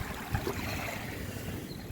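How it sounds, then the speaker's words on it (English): Water of Lake St. Clair, Michigan, laps and washes steadily nearby, a soft continuous churning with a low rumble underneath. "You guys can hear the sound of the water coming through."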